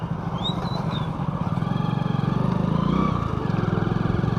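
A car engine blips and revs during a rev-matched downshift, a continuous near engine drone with pulsing rhythm and a slight rise in the middle, no talking over it.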